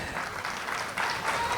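Audience applause at a village fiesta for the Virgen de Fátima in Aldea Blanca, greeting the music groups, steady dense clapping that swells slightly toward the end.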